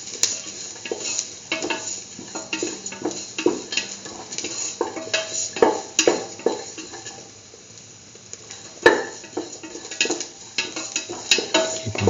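Garlic pieces sauté in a pan for a curried lentil egg stew, with a steady, close scrape and clink of a utensil stirring against the pan over a faint sizzle. The stirring comes in irregular bursts that pause briefly midway.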